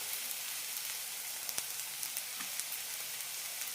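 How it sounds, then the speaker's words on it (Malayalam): Onion with curry leaves, red chilli, Kashmiri chillies and ginger sautés in a pan, giving a steady soft sizzle with faint crackles and no talking. "നന്നായി വഴറ്റാം."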